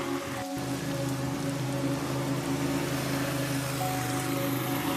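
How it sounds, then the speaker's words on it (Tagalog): Heavy rain pours steadily at night over a roadside, a dense, continuous hiss filling the whole stretch, with a low steady hum beneath it and no voices. "biglang bumuhos ang ulan"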